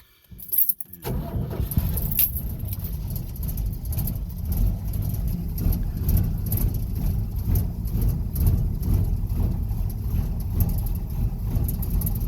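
A 1965 Ford F100 truck starts up with choke applied: a brief clatter of keys, then the engine catches and settles into a steady, loud, close rough idle with no talk.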